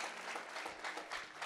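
A church congregation applauding together, dense continuous clapping that sounds distant and fairly faint, with no voices over it.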